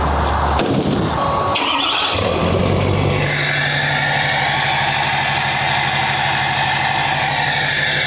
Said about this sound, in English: let's fire up the truck